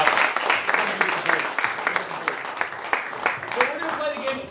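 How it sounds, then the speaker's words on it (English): An improv comedy show audience claps as a performer leaves the stage at the close of the show, moderately loud applause with voices talking over it and trailing off toward the end. "give her some applause"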